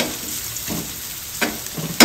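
Garlic and onion, native onion from Pangasinan, frying in oil for chicken tinola, giving a steady sizzle with a few louder crackling bursts and stirring sounds.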